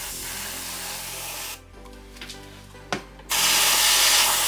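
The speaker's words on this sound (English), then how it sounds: "Let's spray some canned air into it." A steady, loud hiss of canned air spraying into a PC, broken by a short quieter gap with a couple of clicks, then a strong hissing blast again.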